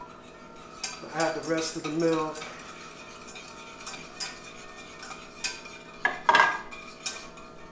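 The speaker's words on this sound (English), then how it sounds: "I'm trying to make sort of a bit of a ganache before we add the rest of the milk in. Just gonna continually whisk this." Chocolate chips and milk are whisked into a mocha ganache, giving scattered metallic clinks and scraping of a whisk against the pot, with a voice speaking briefly over the stirring.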